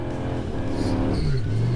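Ram SRT-10 pickup with a 500-horsepower V10 revving hard at full throttle, a loud, steady engine roar that climbs in pitch over a couple of seconds.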